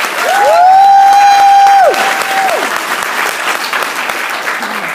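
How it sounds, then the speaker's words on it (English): A crowd applauds steadily throughout, with a sustained whistle-like tone ringing over the clapping during the first couple of seconds. "give him one more round of applause"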